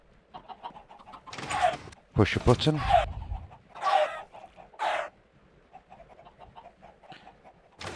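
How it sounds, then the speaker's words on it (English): Clucking chickens on a video game chicken farm, several bursts of clucks and squawks rising and falling over a few seconds, with someone talking over them. "Fire them up into there so you get loads of chickens in here."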